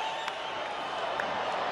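A baseball stadium crowd of more than 28,000 waits for the final strike, producing a steady wash of distant murmuring and scattered cheers, with light clapping rising briefly.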